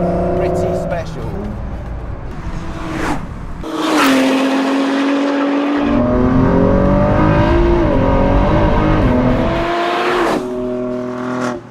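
A 2017 Ford GT with a 3.5-litre twin-turbo V6 running on a raceway, its engine note rising and falling through gear changes at close range, with someone talking over the steady drone.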